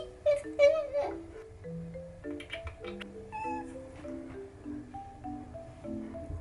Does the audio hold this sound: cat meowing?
yes